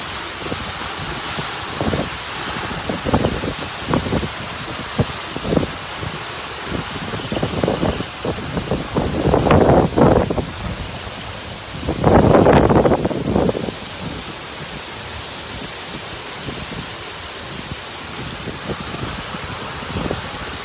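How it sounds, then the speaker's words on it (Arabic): Very heavy rain with hail and strong wind during a storm, a dense continuous roar with gusts swelling loudly in the middle, with no talking. "وأمطار غزيرة جدا، لا إله إلا الله، وحبات من البرد ما شاء الله"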